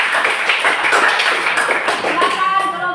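A classroom audience claps hands for a student group after a presentation, a dense, steady patter of many hands lasting a few seconds, fairly loud and close.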